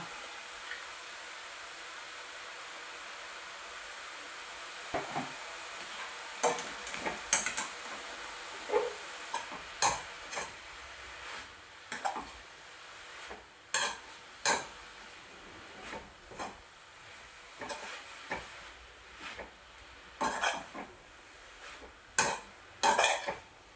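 Spinach (cheera) tossed and stirred in a pan for a thoran, with a spoon scraping and tapping the pan in irregular knocks, some sharp and close, over a faint low sizzle.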